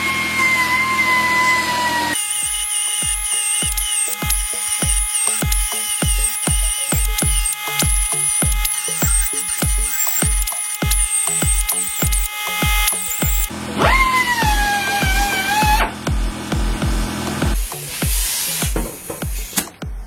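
A power tool whines steadily while grinding out spot welds on a metal panel, with rapid rhythmic chattering hits for much of the run, then a higher-pitched bogged whine near the end, loud and close.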